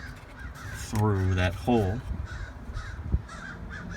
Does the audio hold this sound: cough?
no